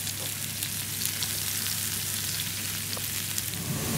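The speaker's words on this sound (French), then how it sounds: "je vais rajouter mes champignons dans le jus qu'a laissé la viande" Mushrooms fry in the meat juices left in a hot pan, giving a steady, close, dense sizzle that runs unbroken with no voices.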